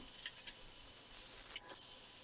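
A pressure cooker with goat leg paya inside releases steam in one short, sharp hiss burst, while faint, airy background noise runs before and after.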